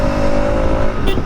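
Bajaj RS200 motorcycle engine pulling hard under acceleration, a steady close, loud drone with a sustained tonal whine throughout.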